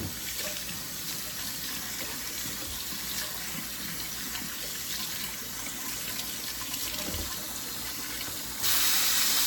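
Running tap water splashes steadily and hisses into a sink while rinsing rice, with faint swishing underneath; the flow gets louder and brighter near the end.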